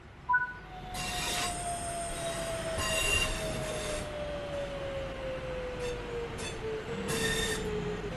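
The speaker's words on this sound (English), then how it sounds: "Bring the train to a stop by applying some brake using the power brake handle" A train in Train Sim World 5 brakes to a stop: a long, steady wheel squeal slowly drops in pitch across the whole stretch, with repeated bursts of brake-air hiss over a constant rumble.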